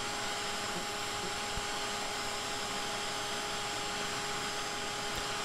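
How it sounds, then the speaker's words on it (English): A vacuum roars steadily and loudly as it sucks soil off the top of an underground yellow jacket nest, a constant broadband suction hum with a faint tonal whine running throughout. "I just kind of vacuum the soil off."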